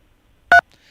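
A single short electronic keypad tone, like a DTMF phone button press, sounds once on an automated call, loud and isolated against near silence.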